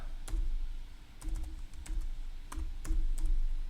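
Typing on a computer keyboard while entering code, a handful of separate clicky keystrokes in an irregular rhythm, close and clear over a low steady hum.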